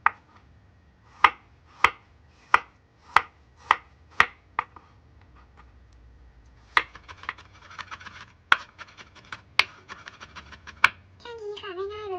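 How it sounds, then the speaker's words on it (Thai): Knife chopping tomatoes in half on a cutting board in a home kitchen while making a Thai chili dip: a steady series of sharp, close chops, followed by a quicker run of cuts and a faint voice at the end. "กำลังจะทำมะเขือเทศนะคะ ก็คือ หั่น"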